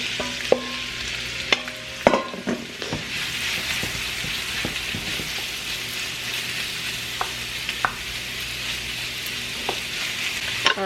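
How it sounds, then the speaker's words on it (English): Food sizzles and fries steadily in a hot pan during home cooking of beef and curry chicken, with a continuous hiss broken by occasional sharp clinks and stirring scrapes. "So we'll let that fry a little bit."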